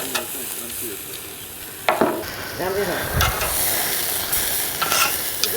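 Steak searing on a Nomad grill and smoker, a continuous crackling sizzle with a few sharp knocks and scrapes, while a voice murmurs briefly in the background.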